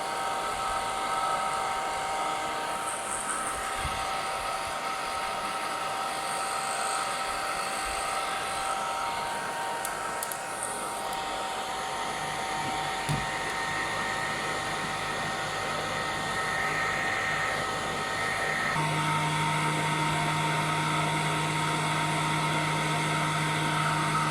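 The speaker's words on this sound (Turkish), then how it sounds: "Fönü uzağa koyuyoruz biraz arkadaşlar. Uzaktan sıcak üflüyor." A hair dryer blows warm air steadily from a little distance to dry a chick freed from a glue trap, a continuous whirring hum with a slight shift in pitch near the end and no talking.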